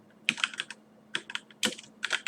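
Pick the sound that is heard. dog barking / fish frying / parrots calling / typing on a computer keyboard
typing on a computer keyboard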